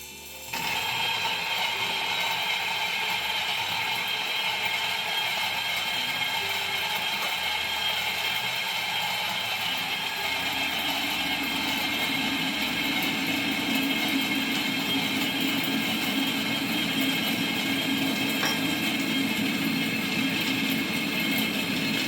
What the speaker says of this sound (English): And grind them in the same grinder, Starseeker